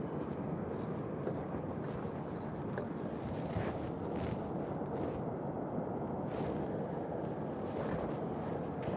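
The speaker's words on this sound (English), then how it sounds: "But the wind's ripping real good." Strong wind roars steadily outdoors in near-freezing cold at a live outdoor fishing stream, a continuous loud broadband rush with gusty swells and no talking.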